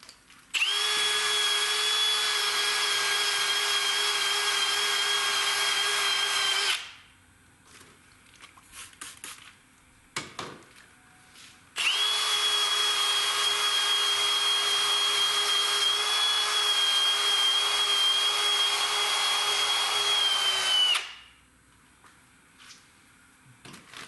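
Power sander buffing a Jaguar S-Type headlight lens with a rougher grit pad, two long steady high-pitched whirring runs of about six and nine seconds, loud and close, with a quiet clunk in the gap between them.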